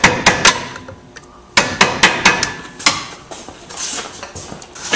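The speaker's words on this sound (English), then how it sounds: "Have to pound back the tabs to get at them." Hammer and punch pounding back the lock tabs on a half shaft of a C2/C3 Corvette, loud sharp metallic strikes in irregular bursts of two and three, close by with no talking.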